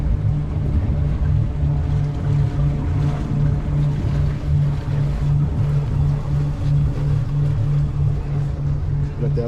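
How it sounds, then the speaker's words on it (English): Two boat motors idle in neutral at the dock of the boat Aquaholic on the Chesapeake, a steady loud low rumble with a constant hum and light water wash, close and continuous. "Both motors are started. Both motors are in neutral."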